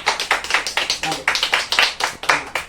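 Children clap rhythmically in a village during playtime, a steady run of sharp, close claps repeating through the moment, mixed with lively kids' chatter and shouting.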